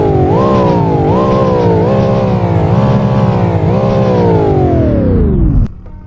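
Ford Mustang Dark Horse V8 revving hard, a loud close engine note rising and falling in several quick surges, then winding down as the throttle drops and settling to a low idle at the end.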